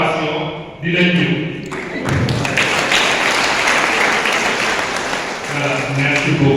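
Church congregation applauding at a parish feast of Saint Joseph, dense sustained clapping that swells after a brief pause and runs for several seconds, with voices mixed in near the start and end.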